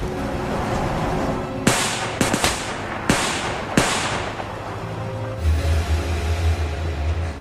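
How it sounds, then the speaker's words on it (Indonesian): Gunfire erupts in a shootout between Mossad agents and bodyguards in the film Munich: several sharp, loud bangs in an irregular burst, followed by a low rumbling underneath. "Baku tembak pun terjadi antara agen Mossad dan pengawal Zayat Mukasey"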